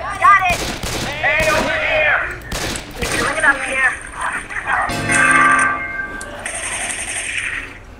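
Gunshots crack out in the video game Left 4 Dead 2, several loud sharp reports mixed with excited voices and game chatter, with a ringing tone near the end.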